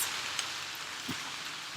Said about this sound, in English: It's raining! Woo! Embrace the rain.